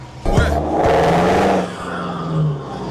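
A Toyota Hilux Revo pickup with an aftermarket exhaust and removed catalytic converter roars and revs hard, with a sharp throaty burst near the start and a sustained aggressive exhaust note that dips and swells again.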